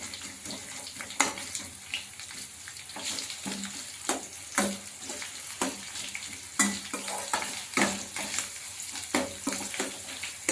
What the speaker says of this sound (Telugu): ఆనియన్స్ వేస్తున్నా ఫ్రెండ్స్. ఆనియన్స్ కొంచెము ఎర్రగైనాక బ్రౌన్ కలర్ రావాలి ఫ్రెండ్స్.